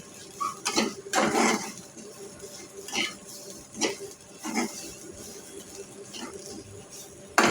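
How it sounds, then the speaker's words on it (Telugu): A spoon stirs fried amaranth leaves and coconut powder in a pan, making a series of scraping, clinking strokes at an uneven rhythm, close and moderately quiet. "తోటకూర వేగిన తర్వాత 2 స్పూన్లు కొబ్బరి పొడి, వేసుకొని బాగా కలుపుకోవాలి."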